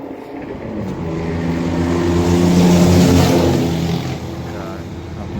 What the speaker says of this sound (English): God, obnoxiously loud cars.